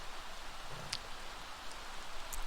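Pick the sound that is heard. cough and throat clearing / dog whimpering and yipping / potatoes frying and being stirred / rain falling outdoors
rain falling outdoors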